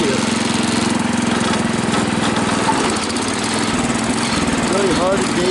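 A garden tractor engine labors under load on a hillside, a steady loud drone that settles as the throttle is eased back, with a voice talking briefly over it.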